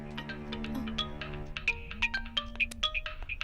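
A phone rings with a melodic ringtone, a call coming in from papa; a bright repeating electronic tune plays fairly close over a low steady background hum, with no talking.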